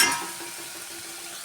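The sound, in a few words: sautéing meat with turmeric and tomato in a pan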